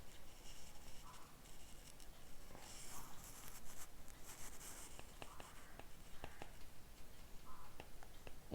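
Pen or marker writing out lecture notes during a physics optics lesson on reflection, heard as scratchy strokes and taps with soft breathy background noise and no talking.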